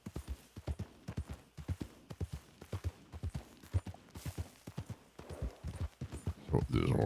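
Horse hooves clip-clop in a steady, close rhythm on a Red Dead Redemption 2 roleplay server, loud and regular throughout, with someone talking over the hoofbeats.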